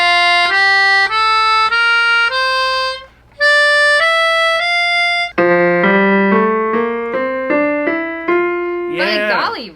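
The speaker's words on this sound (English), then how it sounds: "So that's our major scale, right?" A piano steps upward through a major scale one clear note at a time, then moves into richer layered notes lower down, with a brief voice at the very end.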